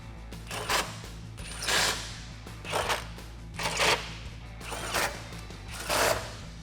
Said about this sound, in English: grab a 13mm socket and tighten them down